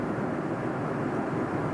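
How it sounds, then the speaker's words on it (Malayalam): Steady broadband drone of a passenger airliner cruising high over Iran near the Zagros mountains, heard from inside the cabin as an even, continuous engine and air roar with no voices. "വിമാനം ഇപ്പോൾ ഇറാന് മുകളിലൂടെയാണ് പോകുന്നത്."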